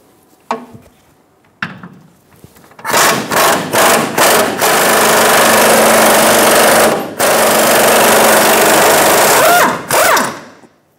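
A power tool fitted with a 21 millimeter socket spins a hitch bolt off a 2014-2018 Chevrolet Silverado 1500, a few short loud bursts followed by a long sustained whirring run, close and unaccompanied by speech.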